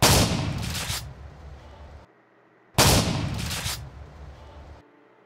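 Two loud gunshots from the GTA video game, each a heavy booming blast with a long rumbling decay, spaced about three seconds apart, with near silence between them.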